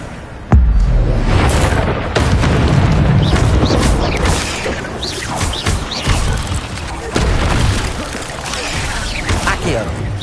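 A fiery Incendio spell bursts in Hogwarts Legacy gameplay, a loud booming whoosh of flame amid crashing combat effects, with a player shouting spell names over the action.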